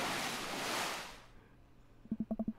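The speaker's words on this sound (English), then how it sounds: "A wall of water rains down on us." A broad rushing splash of water from a log flume ride plunging down a drop in Dream Daddy, a loud wash that fades out, followed by a short series of soft rhythmic tones.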